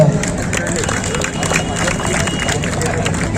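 A studio audience claps steadily throughout, a dense continuous patter of many hands with a low crowd murmur underneath.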